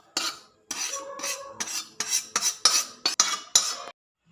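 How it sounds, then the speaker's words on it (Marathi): Roasted semolina scraped from a pan onto a plate with a metal spoon, a series of about ten short, crisp scraping strokes close up, each separated by brief pauses, with no talking. "चला आता रवा आपण प्लेटमध्ये काढूया"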